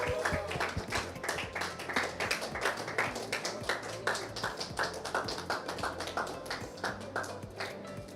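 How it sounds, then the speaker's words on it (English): A small crowd claps for the winner of a poker tournament's final table, with distinct, rhythmic, fairly close handclaps that go on steadily for several seconds. "Give it a round of applause"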